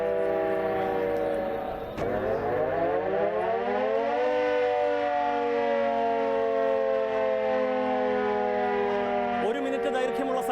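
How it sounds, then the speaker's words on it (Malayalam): A one-minute warning siren before the demolition blast at the Maradu flats wails loud and unbroken, dipping in pitch briefly near the start before rising and holding a long, steady tone. "പ്രേക്ഷകർ കേൾക്കൂ, 1 മിനിറ്റ് ദൈർഘ്യമുള്ള സൈറൻ"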